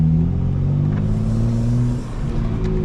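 A 2025 BMW M4 Competition xDrive with its exhaust valves open rumbles loudly and steadily up close, a deep sustained engine drone that dips briefly near the end.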